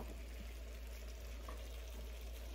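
Hot dogs fry in a cast iron Rachael Ray skillet over medium heat, giving a low, steady sizzle that holds evenly from start to finish, with no talking.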